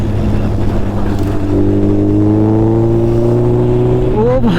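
Suzuki Hayabusa motorcycle engine accelerating on a high-speed ride, a loud, steady drone whose pitch climbs gradually, then shifts sharply near the end.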